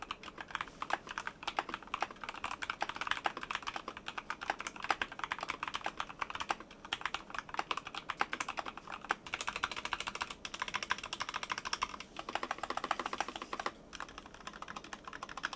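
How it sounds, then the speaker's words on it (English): Steady typing on an LTC Neon75 wireless mechanical keyboard fitted with budget red linear switches, a dense run of close, even keystrokes continuing without pause and with no voices. "If you've ever purchased a budget keyboard with a red linear switch, that's kind of what you can expect here"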